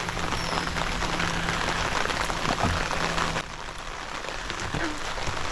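Steady rain patters on surfaces throughout, a continuous hiss of drops with no voices, dipping slightly softer near the middle.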